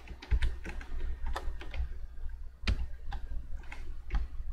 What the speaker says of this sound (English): And then we're going to type